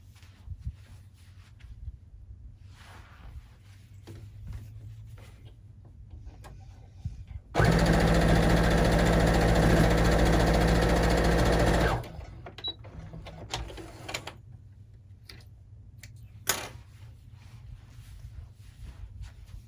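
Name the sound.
sewing machine stitching quilt blocks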